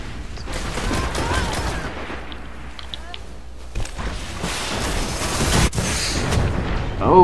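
Grenade blasts and gunfire from a Destiny match crackle through a busy battle mix, with a sharp burst near the six-second mark and steady combat noise throughout.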